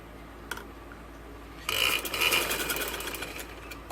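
Sewing machine stitching a fine seam on a ladies' kameez neckline, a short burst of motor whirring that starts suddenly and runs steadily to the end.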